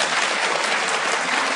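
Audience applause at a public debate on blasphemy, a dense, steady burst of clapping from a full hall, loud and sustained with no voices over it.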